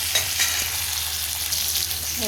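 Onion, tomato and garlic sautéing in oil for a gravy, a loud, dense, continuous sizzle with light stirring scrapes and a brief clink near the end.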